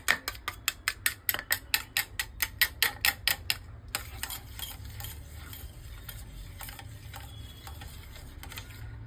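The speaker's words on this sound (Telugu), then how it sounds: "దాన్ని కూడా ఇలా బీట్ చేస్తూ ఉండాలి, బాగా బీట్ చేయాలి" Eggs are whisked briskly in a bowl for a fluffy omelette: a fast, even run of close utensil clicks for about four seconds, then a softer continuous swishing whisk with faint scrapes.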